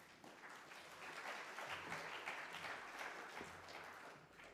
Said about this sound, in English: Please clap for Miss Gladys Mugambi.